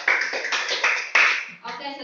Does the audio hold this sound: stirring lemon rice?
no